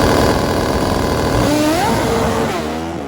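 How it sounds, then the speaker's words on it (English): A 400+ horsepower pro stock V-twin drag racing motorcycle roars loudly at a drag strip launch, its engine snarling and rising sharply in pitch as it accelerates hard away, alone without voices. "When this motorcycle goes, it's fast."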